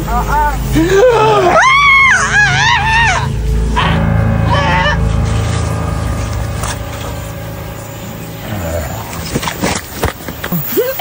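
A person screams loudly and close by in a vocal outburst with rising and falling cries. It is followed by agitated voices and background commotion, with people talking throughout.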